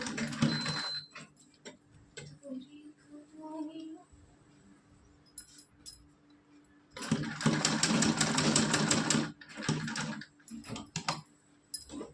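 A sewing machine stitches a doll's dress in several separate bursts of rapid clatter with quiet gaps between them, the longest run coming near the end, close by.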